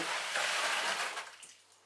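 Cold water is poured from a container into a vessel of hot boiled water while making wine, a loud continuous splashing pour that tapers off toward the end.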